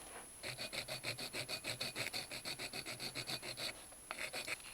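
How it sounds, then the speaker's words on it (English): Rhythmic back-and-forth scraping as a metal 1911 pistol frame is sanded, about twenty quick strokes of abrasive rubbing, then a short pause and a few more strokes, close and fairly faint. "switch over to sanding and kind of blend and really give a nice radius"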